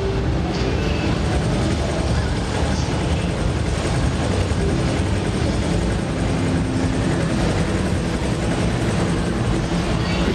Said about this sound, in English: He's glued them together and made this kind of crazy helicopter boat, I guess it is, which will take me to the final piece of the level.